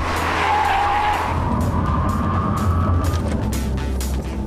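An Audi R8 sports car brakes hard on a racetrack, with loud close engine roar and tire noise scrubbing under heavy deceleration, continuous throughout without any voice.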